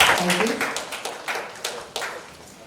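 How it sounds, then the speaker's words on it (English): An audience gives a round of applause welcoming dignitaries at a construction industry event in India, scattered claps rising under a speaker's voice and tapering off. "Can we please welcome our dignitaries with a round of applause?"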